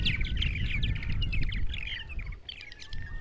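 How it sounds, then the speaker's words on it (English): Birds chirping outdoors on Eastern Long Island on a windy morning, several quick bright tweets and trills close together over a heavy, constant rumble of wind. "You hear all that chirping and everything and going on."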